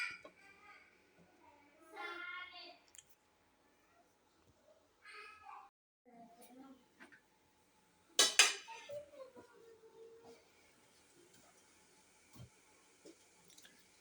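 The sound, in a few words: lid placed on a pot for steaming momos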